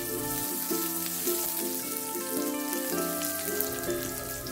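Ginger and garlic slices and dry chilies sautéing in oil for a spicy momo chutney: a continuous close crackling sizzle, steady and even throughout, with background music and no talk.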